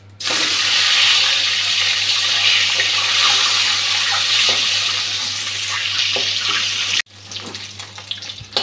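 Eggs frying in a pan of oil for an egg curry give a loud, continuous close hiss over a low hum, cutting out briefly near the end before resuming more quietly.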